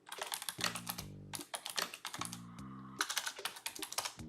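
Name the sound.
typing on a computer keyboard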